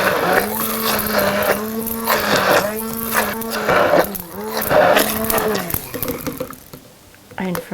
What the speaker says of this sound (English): just zhuzh it up with my hand blender